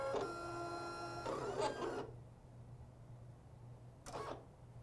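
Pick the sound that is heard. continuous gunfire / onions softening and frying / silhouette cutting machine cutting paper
silhouette cutting machine cutting paper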